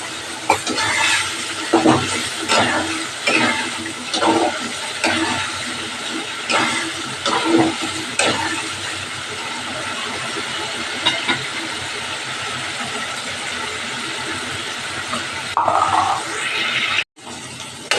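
Potatoes fry and stir in a pan for an egg broth, producing a continuous hissing sizzle broken by repeated scraping stirs, ending with a sharp clatter.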